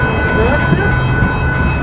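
A Metrolink train rolls slowly through a railroad crossing, a steady loud rumble with crossing bells ringing and a horn tone over it, with brief voices nearby.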